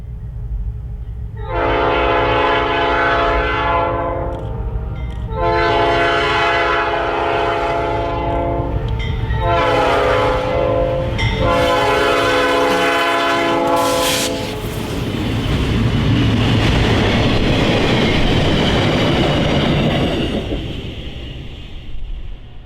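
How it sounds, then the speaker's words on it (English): A former NDM locomotive leading a ballast train in Arizona sounds its multi-tone horn in four long blasts, loud and close, followed by the rumble and clatter of passing cars. "we had to settle for a ballast train, with a former NDM locomotive leading"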